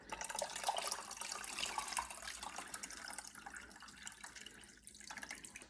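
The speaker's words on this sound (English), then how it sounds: "So I'm going to pour from this cup everything except for the layer of fat." Ham broth pours from a cup in a home kitchen, a soft, steady trickle and splash of liquid lasting several seconds, quiet and close.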